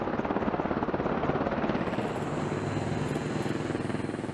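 An AH-64 Apache attack helicopter flies with a loud, steady rotor thump, a fast rhythmic chop over a broad engine roar, sustained and fairly near throughout.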